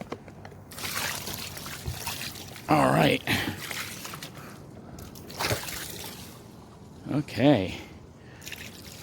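Water poured onto a car windshield, a light trickling and splashing under a man's occasional brief words, with a couple of louder sloshing bursts.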